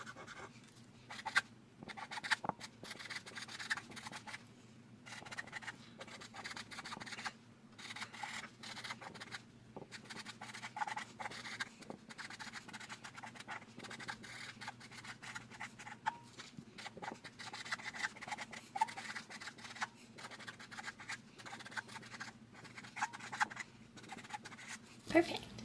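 A pen scratches out a handwritten note on paper, faint and close, with short strokes and pauses in an irregular rhythm under a low steady hum.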